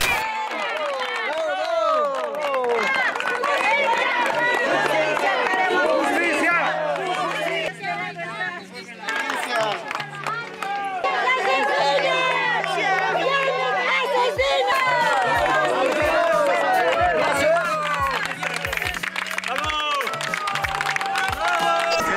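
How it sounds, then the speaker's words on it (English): A crowd on a highway in Bolivia applauds a passing film crew, with sustained clapping and excited chatter all around and a low droning tone underneath. "We are greeted with applause."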